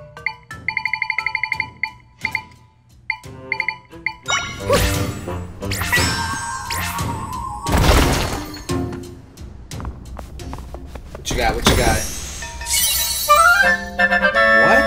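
A bomb bursts open a cracked, bombable wall in Zelda: Echoes of Wisdom, a loud broadband blast with shattering debris breaking through light chiming game music, followed by a second crashing burst.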